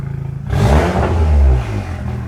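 An Audi RS3 LM TCR race car's engine barks into a loud, close rev after a second of idle burble, holding a rough mid-pitched roar for about a second before easing back toward idle.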